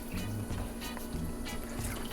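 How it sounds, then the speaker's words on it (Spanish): Water is poured into a cooking pot for Mexican rice with corn kernels, a steady continuous trickling and filling sound at close range, with no talk over it. "Le voy a poner 4 tazas de agua."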